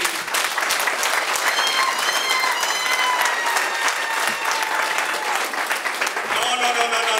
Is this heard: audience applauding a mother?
yes